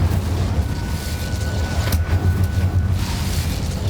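A fiery Incendio spell bursts in Hogwarts Legacy, with a sharp explosive crack near the middle over a steady, rumbling low roar throughout.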